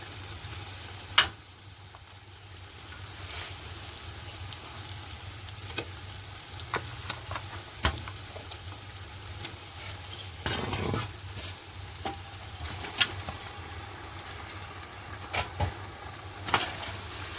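Marinated chicken stirred into a frying masala with yogurt, giving a continuous moderate sizzle broken by scattered clinks and scrapes of a spoon against the pot, with a low steady hum underneath.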